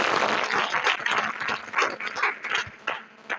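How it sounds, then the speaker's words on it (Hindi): A group of pupils at a school general-knowledge quiz claps for a classmate: a brief burst of dense, close hand-clapping that rises and dips unevenly before thinning out. "इनके लिए एक बात ताली हो जाए"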